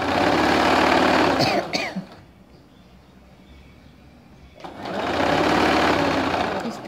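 A sewing machine stitches ladies' straight-cut pants near the zip, running loud and close in a steady whir for two seconds, pausing with small handling noises, then starting up again for another long burst.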